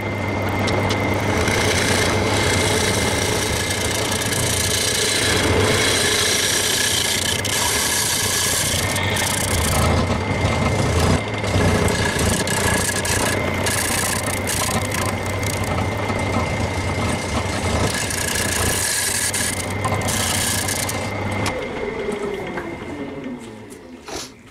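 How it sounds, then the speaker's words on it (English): A bowl gouge scrapes across a spinning ash bowl on a wood lathe, a loud continuous rasping cut over the steady hum of the motor, with brief bumps and grinding bursts before the cutting stops. "all I'm doing at the moment is just going over it with the edge of the bowl gouge"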